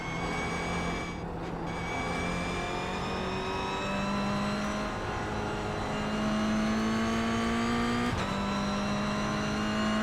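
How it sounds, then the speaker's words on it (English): A Toyota GR86 on the Summit Point race track, its engine revving up through the gears with rising whining tones, a brief shift dip, loud and close from inside the car. "We are now in the GR86."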